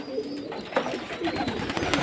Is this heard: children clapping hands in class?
no